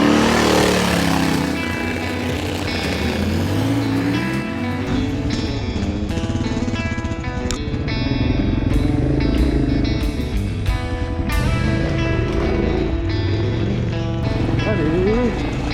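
A motor vehicle engine revving and accelerating, a loud, sustained drone rising in pitch, close by, with people talking over it.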